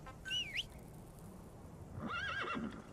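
A horse neighs twice in Metal Gear Solid V, a short whinny then a longer, wavering one, heard alone against quiet game ambience.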